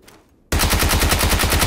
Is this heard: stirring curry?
no